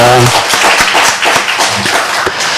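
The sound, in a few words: congregation applauding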